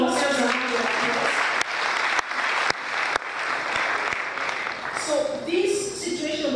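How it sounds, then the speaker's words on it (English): Audience at a women's election situation room gathering in Nigeria breaking into applause, a full wash of many hands clapping, with voices and a few sharp claps near the start, then cheers and talk toward the end. "Can we give ourselves a round of applause?"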